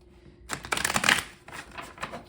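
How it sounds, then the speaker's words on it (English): Tarot cards riffle and flutter in quick crisp bursts, close by, with a brief pause before another round of shuffling. "We're just getting a good shuffle in for y'all."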